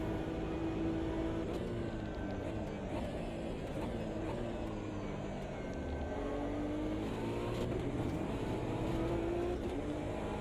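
Race car engine in a racing video game, droning steadily as it accelerates uphill in a slipstream, with rising and falling tones across a continuous loud roar.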